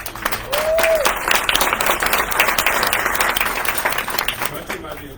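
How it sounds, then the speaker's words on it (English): An audience at the dedication of Mercy North Auburn at Rock Creek breaks into sustained applause, dense clapping filling the space over several seconds with a voice heard briefly and a short whistle-like tone early on. "judging by the applause, you'll all agree with me"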